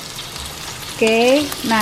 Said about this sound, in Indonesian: kita tumis ya. Ini namanya tumis.